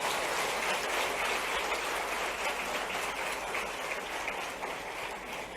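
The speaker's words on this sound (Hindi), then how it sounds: "जरा जोरदार ताली दोनों के लिए बजा दो।" A large audience at a government scholarship distribution event in Bhopal claps in sustained, dense applause, heard as a loud, even roar of hands that holds steady throughout.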